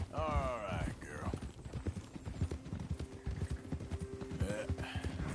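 Horse hooves clip-clop in a close, steady rhythm, with a brief whinny and voices talking over the hoofbeats.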